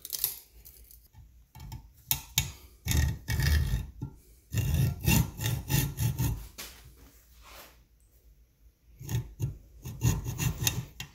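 A hacksaw cuts through a small lathe-made screw in bursts of rapid, rasping back-and-forth strokes, close and loud, with short pauses between the runs.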